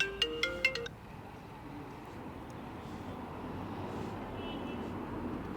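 An incoming call sets off a mobile phone ringtone: a quick, bright melodic pattern of a few beeping notes that plays for under a second, then gives way to a low background hum.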